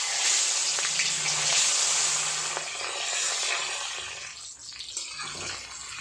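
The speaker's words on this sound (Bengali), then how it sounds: "এবার মাছগুলো ভেজে নিচ্ছি।" Fish pieces fry in hot oil in a kadai wok for a Bengali mustard-poppy fish curry, making a loud, continuous broad hiss that gradually thins and fades toward the end.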